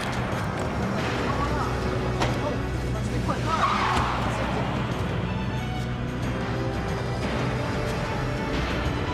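Commandeered car speeding off with tires squealing, a sustained engine rush with a brief squeal partway through, mixed with background noise and some voices.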